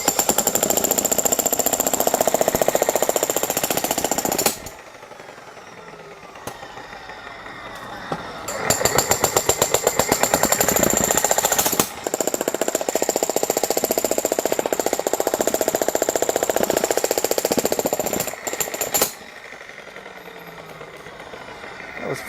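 A Makita 80V demolition hammer splits firewood with loud, rapid hammering in several long bursts, separated by quieter pauses as the tool rests.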